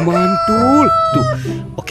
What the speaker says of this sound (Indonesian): Ada ayam berkokok teman-teman.